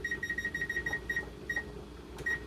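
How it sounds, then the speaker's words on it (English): A kitchen timer being set while pasta cooks gives off rapid, evenly spaced high beeps in a quick run, then a few short isolated chirps, moderately loud over low room hum. "we're going to set a timer"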